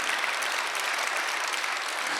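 Steady applause from a large church congregation during a Sunday worship service, dense and even throughout with no voices standing out.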